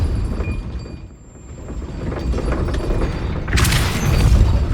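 The Depulso spell is cast in Hogwarts Legacy, a deep booming burst that swells and then breaks into a loud rushing blast near the end.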